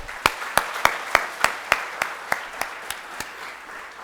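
A conference audience at an inaugural ceremony claps in slow, evenly spaced beats, about a dozen sharp unified claps over a faint wash of scattered clapping, gradually softening toward the end.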